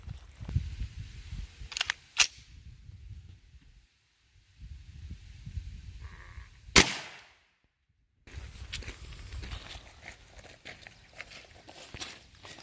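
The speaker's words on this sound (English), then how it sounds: "So now I'm going to hit it right under that shot with the rifle for the carbine." A single sharp 9mm carbine rifle shot fired into a ballistic gel block outdoors, one loud crack standing alone between stretches of quiet handling and ambient noise.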